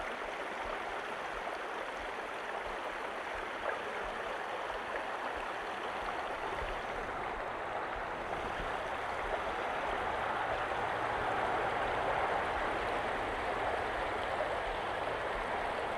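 Creek water flows steadily through a state park on a fall walk, a continuous broad rushing and babbling wash that stays even and fairly close for the whole stretch, with no voices.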